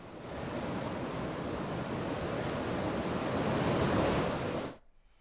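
Floodwater roars through the Tungabhadra dam after a crest gate chain link broke, a loud, steady broadband rush that runs unbroken for about five seconds before cutting off abruptly.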